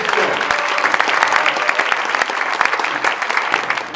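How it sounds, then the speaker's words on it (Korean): Audience applause welcoming missionaries at a homecoming day, a dense, steady wash of many hands clapping close and loud for the full stretch, with no voices above it. "박수로 맞이해"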